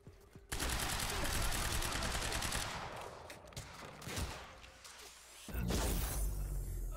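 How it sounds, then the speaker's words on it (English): Enemy gunfire in Quantum Break, dense rapid shots and crashing impacts at close range for several seconds, a lull, then another loud burst, with a player talking over the combat. "He shot me with a shotgun, that damn shotgunner shot."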